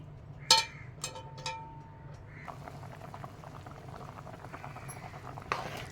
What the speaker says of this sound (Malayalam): കറി നന്നായിട്ട് തിളച്ച് വന്നിട്ടുണ്ട്